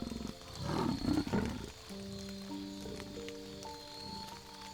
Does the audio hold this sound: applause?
no